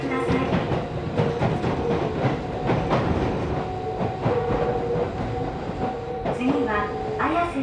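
Tokyo Metro 16000 series train running between stations on the Kita-Ayase to Yoyogi-Uehara route, a loud continuous rolling rumble with clickety-clack wheel beats, brief squealing tones and motor whine near the end.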